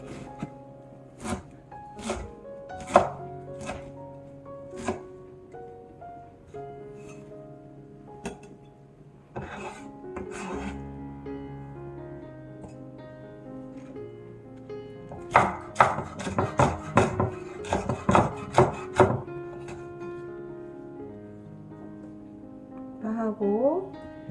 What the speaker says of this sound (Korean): 냉이를 좀 썰어볼게요.